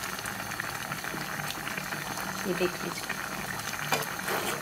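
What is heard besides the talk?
quince and brinjal curry boiling in a pot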